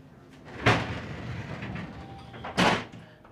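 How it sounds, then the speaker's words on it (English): A pair of bifold doors in a cruise ship cabin shuts with two sharp, close clacks about two seconds apart, over a steady low room hum. "there's a pair of bifold doors that you can close."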